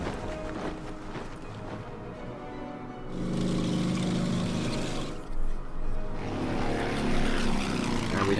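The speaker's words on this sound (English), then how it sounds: "And we have an enemy bomber at our hands." Enemy bomber aircraft engines in the strategy game Order of Battle, a steady droning propeller rumble that swells louder midway and holds with a thick low hum over background game audio.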